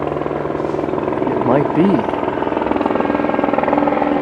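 A Los Angeles Police Department helicopter flies overhead, its steady rotor thrum loud and constant throughout, with people talking over it.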